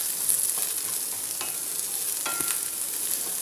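Small onions frying in a pan for a brinjal tomato chutney, a soft even sizzle with a few light scrapes of a stirring spoon, no talk.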